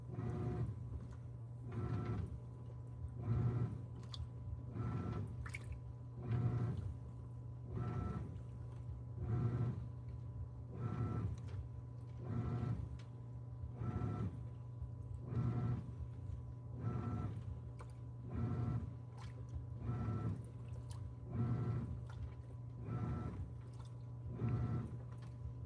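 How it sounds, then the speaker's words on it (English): A Kenmore washing machine drains water during a pre-drain, its pump holding a steady low hum beneath a slow, regular pulsing surge that repeats every second or so, close and with no voices. "we're in a pre-drain now"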